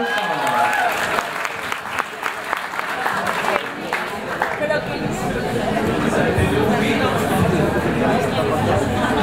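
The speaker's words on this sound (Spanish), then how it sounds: "aplausos." Students in a lecture on earthquakes in Bogotá break into applause at a moderate distance, steady and sustained, with a murmur of chatter and voices mixed in throughout.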